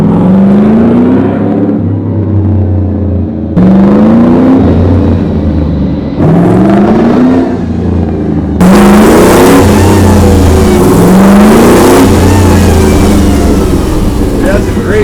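A Dodge Charger with a MagnaFlow exhaust, the custom Ice Charger build, revs repeatedly in loud, rising bursts over a deep idle, with a person talking over the engine.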